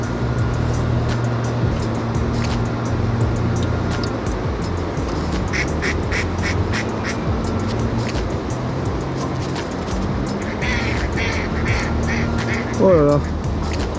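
Ducks quacking and squabbling over bread in a town-centre setting during bread fishing, repeated quacks over a steady background of traffic and water, with people talking.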